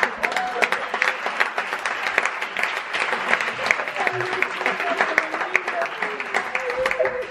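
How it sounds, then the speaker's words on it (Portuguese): Audience applause at a Lisbon stand-up comedy show, steady dense clapping throughout with scattered louder claps, voices and laughter mixed in underneath. "já estou a aplaudir este."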